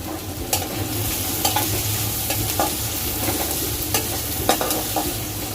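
Onions fry in oil with cardamom, cinnamon and bay leaves while a spoon stirs them, giving a steady close sizzle broken by several short scraping strokes against the pan.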